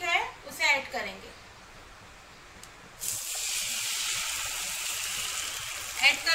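Wheat milk poured into hot ghee for Konkan-style wheat kheer sets off a sudden loud, steady sizzle that holds over low heat after a short stretch of talk.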